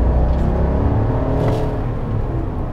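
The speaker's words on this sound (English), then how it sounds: "All right, I'm gonna floor it." A 2019 GMC Sierra Denali pickup truck under full throttle, its engine giving a loud, steady low rumble and whir that holds without a break and builds slowly, with no talk over it.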